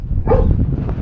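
One short, loud bark comes from a dog close by at a roadside restaurant in the hot Mexican desert. A rough, breathy tail and light background noise follow it.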